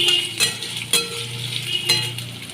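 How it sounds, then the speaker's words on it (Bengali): Potatoes fry in hot oil with a continuous close sizzle, punctuated by three or four sharp clacks of a utensil stirring against the pan. "আলুগুলো আমি লাল লাল করে ভেজে নিচ্ছি"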